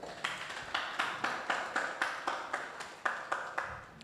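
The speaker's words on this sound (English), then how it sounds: "A round of applause." Hand claps for a webinar convener, a sparse, evenly paced run of about a dozen distinct claps, fairly quiet and close, with no voices over them.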